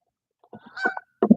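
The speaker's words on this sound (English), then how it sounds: "stop talking to me, bird." A bird, seagull-like, calls near an irrigation work site in two short bursts of honking squawks, close and loud, with silence around them.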